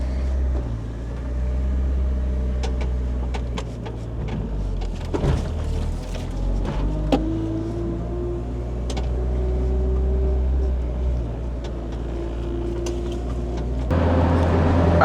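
Stock 1999 Honda Civic EK hatchback driving with a steady low engine drone and road rumble, shifting in tone as it moves, with a window down and small rattles and clicks heard from inside the cabin.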